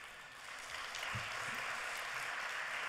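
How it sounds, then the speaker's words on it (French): A congress audience applauds at the closing session of a French federation meeting, a steady, faint wash of clapping heard from a distance and continuing evenly with no talk. "Donc on peut l'applaudir aussi"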